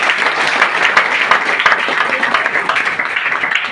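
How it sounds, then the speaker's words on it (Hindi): Loud, dense applause from an audience at a motivational talk in Doha, Qatar, a continuous wash of many hands clapping at close range with no voices over it. "तो हमारे सभी ऑफलाइन अग्रज गुरु के लिए जोरदार तालियां।"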